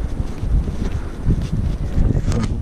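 Steady outdoor wind buffeting the microphone on a cold late-February day, a continuous low rumble and gusty hiss throughout with no talk.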